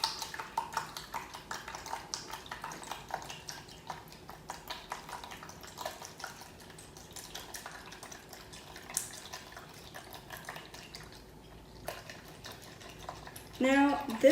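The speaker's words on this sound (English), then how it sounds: "Now I'm gonna whisk it into the egg, evaporated milk, and vanilla mixture" Sugar mixture whisked into egg, evaporated milk and vanilla for Hong Kong egg tarts, a fast, soft, continuous ticking of a whisk in a bowl throughout, with a brief louder clatter at the end.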